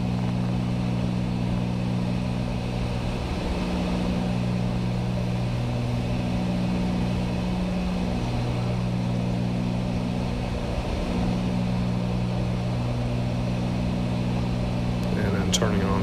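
Cessna 310 twin piston engines droning steadily in flight on approach with gear down, a loud continuous cabin hum with wavering tones throughout.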